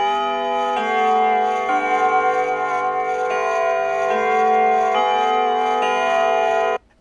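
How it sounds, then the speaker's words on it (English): A grandfather clock chimes with steady ringing bell tones that overlap and change pitch every second or so, a loud, sustained sequence with no voices, cutting off sharply at the end. "Then suddenly she hears the chime of the grandfather clock."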